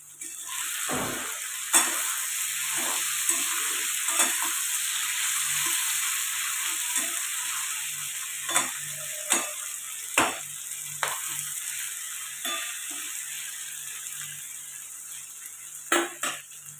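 Cauliflower curry with carrot and peas frying in Sundrop sunflower oil, a constant hissing sizzle punctuated by repeated clanks and scrapes of a utensil against the pan.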